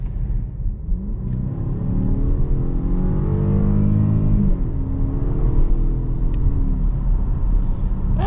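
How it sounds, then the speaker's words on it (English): A 2023 Jaguar F-Pace with the 2-liter turbo engine accelerates hard from about 25 mph, a loud, steady engine roar climbing in pitch through the gears, with road rumble beneath and no talking. "so really pretty swift acceleration from this F-Pace with the 2-liter turbo"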